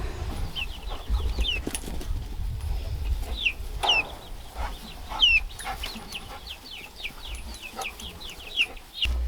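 Chicks, fourteen in all, cheep continuously in high, short rising peeps from a chicken tractor, with occasional low clucks and scratchy rustling underneath; the flock sounds close and steady throughout.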